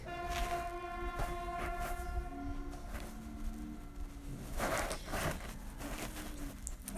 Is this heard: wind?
no